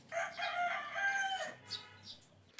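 A game fowl hen foraging for insects with her chicks gives one drawn-out, fairly quiet call, followed by a few shorter high chirps.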